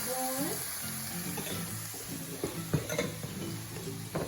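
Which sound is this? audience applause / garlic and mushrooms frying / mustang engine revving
garlic and mushrooms frying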